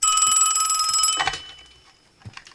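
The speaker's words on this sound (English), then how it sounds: "Later that night, Amy gets a phone call" A telephone rings loudly and steadily for about a second, then the tone cuts off, followed by a soft thump and near silence with a faint sound at the end.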